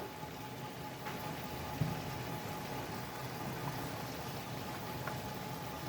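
Bengali hilsa fish malaikari curry coming to a boil, giving off a soft, steady bubbling hiss that stays faint and even throughout, with no talking.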